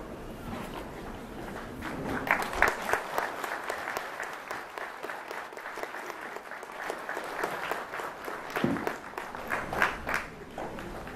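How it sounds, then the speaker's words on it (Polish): A church congregation at a feast-day Mass in a sanctuary applauds the canon, its custodian, with a steady patter of clapping that swells and fades, under faint murmuring. "to są oklaski dla księdza kanonika, kustosza sanktuarium"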